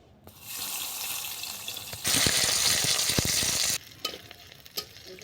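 Onion hits hot oil with bay leaves and spices, bursting into a loud hiss that holds for a couple of seconds before settling into softer crackles with occasional pops and stirring knocks.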